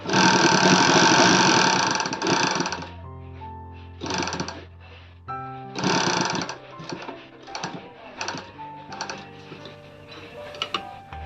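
A sewing machine stitches a triangle-neck nightie, running in loud, rapid whirring bursts that stop and restart several times with short, quieter gaps between them.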